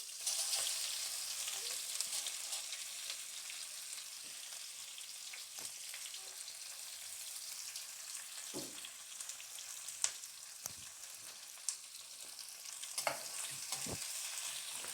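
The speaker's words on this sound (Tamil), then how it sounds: "வெங்காயத்தை நல்லா வதக்கணும். அது நல்லா செவந்து வர வரைக்கும் வதக்கணும்." Onions with green chilies sautéing in a pan over a medium flame for coconut milk pulao, a soft continuous sizzle with occasional stirring clicks and scrapes, fairly quiet and close, no talk.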